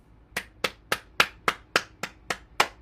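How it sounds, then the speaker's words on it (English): Nine sharp hand claps in an even, brisk rhythm, loud and close, with no talking during a bouncing exercise session. "Let's clap."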